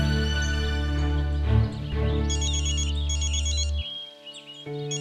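A phone rings over a bed of loud background music, its warbling tone repeating through the middle of the clip before cutting off near the end; nobody speaks.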